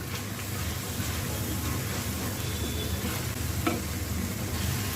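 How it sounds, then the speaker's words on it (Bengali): Whole dried red chilies sizzle as they fry in hot oil, a steady close hiss and crackle running evenly the whole time without pause. "কয়েকটা শুকনো মরিচ দিয়ে দেব গোটা।"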